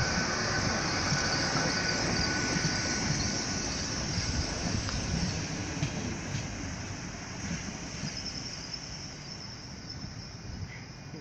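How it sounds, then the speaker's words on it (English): A five-carriage train rolls steadily through Swindon station, its broadband rumble and hiss sustained and fairly loud from start to finish, with faint high whines above and the noise easing slightly toward the end. "Very shiny train though."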